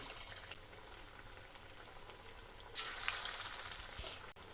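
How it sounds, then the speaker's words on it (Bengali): Carrot and cauliflower kebabs frying in hot white oil in a pan, a soft, steady sizzle that swells louder partway through as more pieces go in, then settles, faint and without talk. "তেল হালকা গরম হয়ে গেছে এখন আমি একে একে কাবাবের শেপে দিয়ে দিব"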